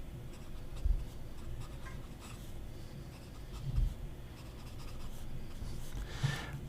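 Dip pen nib gliding over paper, a soft, smooth scratch of continuous writing with a few faint taps of the nib, close and quiet with no voices.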